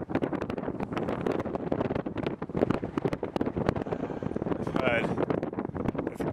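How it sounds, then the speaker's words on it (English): Wind buffeting the microphone on a cycling road, a loud continuous rough rumble with gusty bursts throughout, close and harsh, while someone talks underneath. "The wind has picked up."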